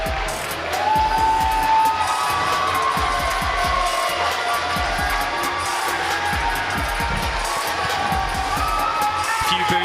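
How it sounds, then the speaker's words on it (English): An esports arena crowd in Texas greets the LA Gladiators with a sustained roar of mixed cheers, whoops and scattered boos, loud and continuous. "Few boos. Few cheers."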